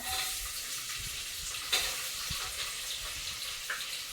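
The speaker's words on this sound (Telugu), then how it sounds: "ఉల్లిపాయలు వేస్తాను ఇందులో" Sliced onions go into hot oil in a pan for chicken biryani, producing a steady, moderate sizzle with occasional soft clinks and stirring sounds and no talking.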